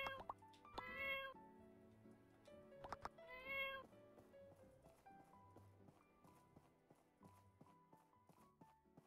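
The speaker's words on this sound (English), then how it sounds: "There's a cat!" A cat in the video game My Time At Portia gives two or three short, clear meows, followed by light repeated footstep taps and soft game sounds, all fairly quiet.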